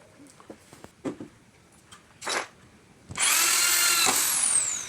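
A cordless power drill drives screws into the aluminium channel of a sliding door. A few light taps and clicks lead into a loud, close, high whirring run that winds down at the end.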